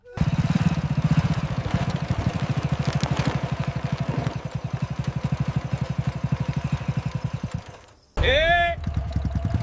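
A motorcycle engine putters in a steady rhythmic idle up close, slowing and cutting out, then restarting; speech briefly breaks in near the end.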